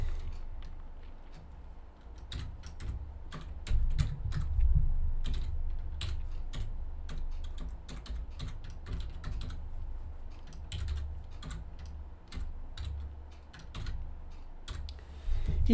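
Typing on a computer keyboard while entering an e-commerce shopping cart project name for an ASP.NET Core 8 application: a steady run of close, crisp key clicks over a low hum, with no talk.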